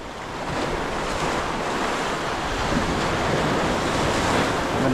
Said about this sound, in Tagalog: Kaya lang malaki pang dagat.